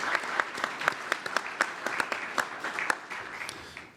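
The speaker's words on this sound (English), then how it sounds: "Let's give a round of applause," An audience at a government regulation forum claps for a colleague, with scattered, fairly sparse hand claps at moderate distance and no voices over them.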